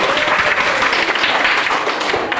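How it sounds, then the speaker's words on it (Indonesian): An Indonesian classroom group gives a dense, continuous wash of applause that holds steady and loud from start to finish, with no voices over it. "Sebelumnya kita berikan dulu aplaus tepuk tangan."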